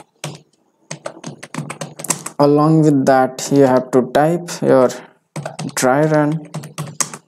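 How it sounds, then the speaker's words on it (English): Quick, uneven bursts of clicking keys as a Helm command is typed on a computer keyboard, close and crisp, with a person speaking throughout. "so let me type the command Helm install"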